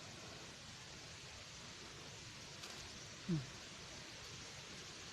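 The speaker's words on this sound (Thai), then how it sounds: "โอ้ยฝนตกใส่" Rain falls outdoors during a red mushroom foraging trip, a faint, steady hiss that runs evenly throughout with one brief soft bump near the end.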